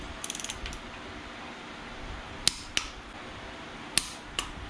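A torque wrench tightens head bolts on a 1.5JZ engine build, giving a quick ratcheting burst followed by several sharp, isolated clicks over a low background hum, with no talking.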